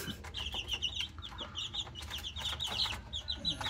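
Twelve-day-old chicks, Miner blue x McLean and pumpkin crosses, squabble, giving rapid, high, close-up peeping and cheeping in quick overlapping bursts over a low background rumble.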